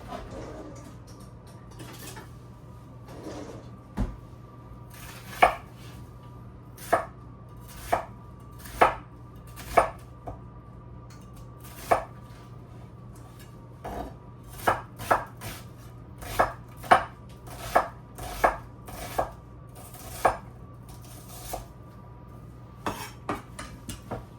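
Onion is chopped on a cutting board while cooking a spiced green bean and potato stew, producing a run of crisp knife knocks in irregular bursts over a low steady kitchen hum, close and fairly quiet, with no talk.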